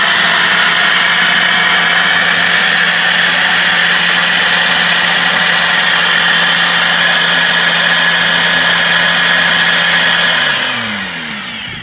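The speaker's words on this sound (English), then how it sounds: "I got the gear case back in the water with my drill on it" A cordless drill spins the gear case of a 1984 15 HP Evinrude outboard to turn its replaced impeller with the lower unit in water, giving a steady loud whine with a droning hum that winds down near the end.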